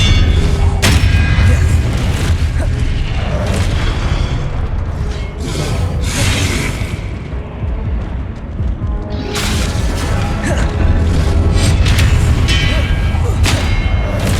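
Expelliarmus and Confringo spells fired in Hogwarts Legacy combat: loud, repeated booming blasts and thudding impacts follow one another densely, with sharp bursts over a constant roar and a brief quieter lull midway.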